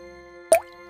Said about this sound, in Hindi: जहां से पानी की बूंदें टपक रही थीं।